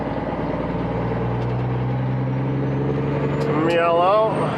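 A truck rumbles steadily along a snowy road with a low, even engine drone close by, and a voice speaks briefly over it near the end.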